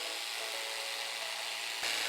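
A jigsaw cuts wooden skirting board moulding with a steady, faint buzzing rasp. It grows briefly louder near the end.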